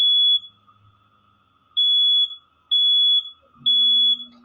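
Loud electronic beeps, four high steady tones each lasting about half a second, repeat at irregular intervals over a faint hum, with a lower drone entering near the end.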